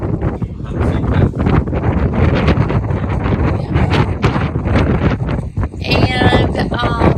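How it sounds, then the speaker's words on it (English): Strong wind buffeting a boat anchored off Cumberland Island, roaring and gusting loudly into the microphone throughout with rustling bursts and rigging noise, no clear voices. "but it's also pretty windy, and we're concerned about our anchor."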